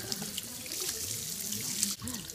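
Sink tap running steadily to rinse bleached platinum blonde hair, a constant near splash and flow of water with faint background chatter.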